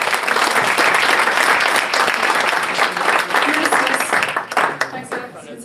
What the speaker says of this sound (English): Big round of applause for our meeting.